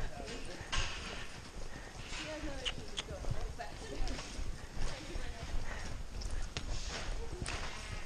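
Young filly lopes in a rhythmic run, hoofbeats thudding steadily and fairly faint, with people talking over the sound throughout.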